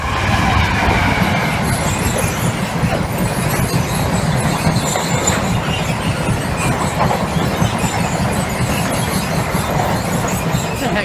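A train runs past Stow Park level crossing, loud and close, with a continuous rumbling roar, rolling wheel noise and faint squeals lasting throughout.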